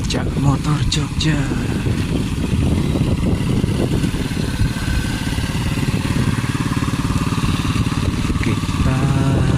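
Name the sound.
motorcycle engine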